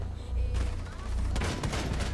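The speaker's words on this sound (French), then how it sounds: "Là, je mets une rafale, là." A burst of automatic gunfire in the video game Rainbow Six Siege, a short rattling volley that breaks out after a low rumbling lull and rings out fairly loudly, with faint voices around it.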